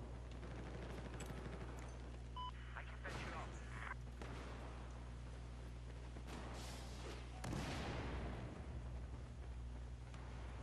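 Bursts of rapid light machine gun fire and booming shots in a Battlefield-style Conquest Large match on PS4, crackling in irregular volleys over a constant low hum.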